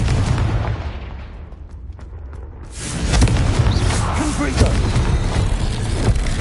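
Confringo blasting spell in Hogwarts Legacy on PS4: a loud, dense explosive burst swells about three seconds in and keeps roaring with rumbling debris, over continuous game noise, with talk heard around it.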